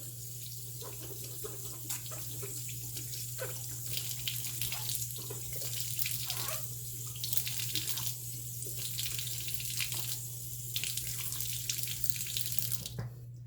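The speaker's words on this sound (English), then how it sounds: "So let's give it a rinse and see how we did." Makeup brushes are rinsed under a running tap, giving a steady hiss of flowing water with shifting splashes as the bristles move through the stream. The sound is close and continuous, with no talking.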